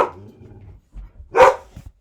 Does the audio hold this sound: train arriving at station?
no